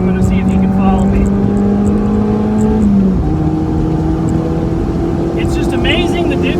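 Mazda NC Miata on a race track, its engine droning steadily at low revs, lugged down in gear, then shifting pitch partway through, loud and constant from inside the car.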